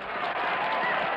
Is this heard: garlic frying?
no